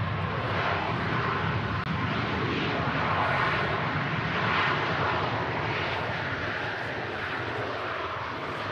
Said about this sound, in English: There you go, Ryanair 73 Max, touchdown.